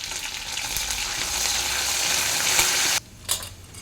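Curry leaves and onions frying for chicken curry, a steady bright sizzle filling the pan for about three seconds before cutting out abruptly, followed by a brief scrape and a quieter hiss.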